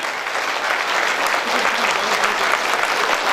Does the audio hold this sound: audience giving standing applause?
yes